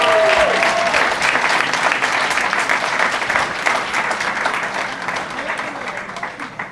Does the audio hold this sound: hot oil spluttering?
no